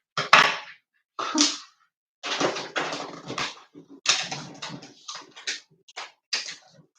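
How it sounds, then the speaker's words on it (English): A dog indoors during a Christmas present wrapping session, making a run of short, close whines, whimpers and snuffles in irregular bursts, with no talking. "Oh, the dog's back."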